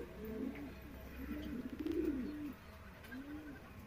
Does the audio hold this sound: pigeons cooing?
yes